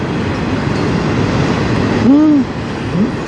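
A CN freight train on the Strathroy Sub near Sarnia passes close with steady rumbling and rattling of railcars, and brief squeals of wheels against the rails.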